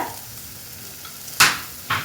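Two short scraping stirs of a spoon through ground spices in a pan, over a faint steady sizzle in the background.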